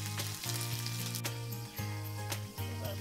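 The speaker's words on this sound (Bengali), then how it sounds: "ছেড়ে বাদামি পেঁয়াজগুলোকে বাদামি করব।" Onions fry until brown for a village-style desi chicken curry, with a continuous close sizzle and crackle and a steady tonal hum running underneath.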